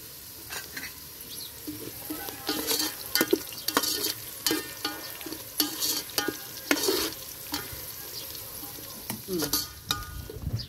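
Curry leaves frying in hot oil for vegetable khichdi, crackling and sizzling loudly while being stirred in bursts, close up, with short pauses between the sputters.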